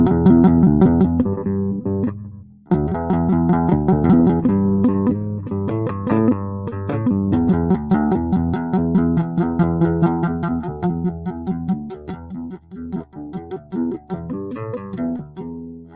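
A bass guitar played close to the neck with a slapping attack on the strings, sounding as a steady, loud run of pitched notes for about sixteen seconds with one brief pause near the start, heard alone without any voices.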